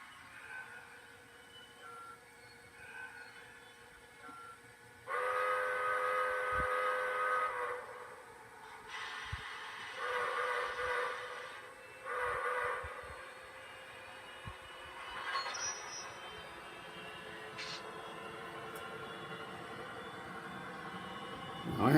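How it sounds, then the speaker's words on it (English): A Coors-liveried model train runs along its track, with a steam-style whistle sounding in several bursts over a steady low running rumble, fairly close and moderately loud. "I haven't run the Coors train in quite a while, so hopefully it won't give us any problems."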